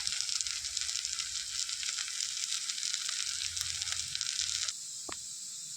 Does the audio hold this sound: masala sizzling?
yes